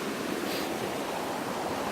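Cold stream water rushes steadily outdoors as a broad, even, continuous wash of noise, close and fairly loud with no break or voice.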